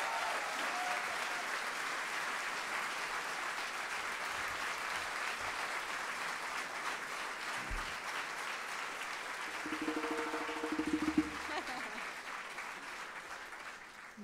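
An audience at a concert applauds the electric cellist, a soft, even patter of many hands heard from some distance, with a few brief tonal sounds and thuds near the end.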